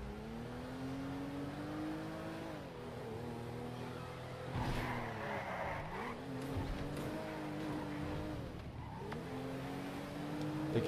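A fast car driven in GTA V: a steady engine drone whose pitch rises and dips with gear changes and throttle, with tire screeches and skids breaking in midway, continuous and fairly close throughout.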